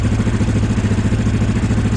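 A Yamaha Grizzly 700 ATV with a Power Commander sits idling, a steady, close, low engine throb with an even pulsing rhythm and no voices.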